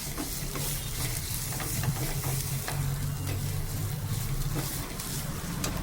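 Mashed bhorta mixture stirred in a frying pan, a steady close sizzle with soft scraping strokes of the spoon running throughout, no talking.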